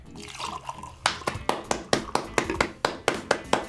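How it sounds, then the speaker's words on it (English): Liquid splashes and drips as a drink is tipped quickly out of a goblet, a brief pour at the start followed by a run of sharp wet spatters and drips landing close by on a flag. "I don't know if I'm gonna be able to pour this."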